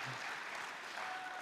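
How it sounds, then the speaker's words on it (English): Steady, dense applause from an audience at a city State of the City address fills the space during a pause in the speech. "It's awkward to know when to stop for claps up here or not."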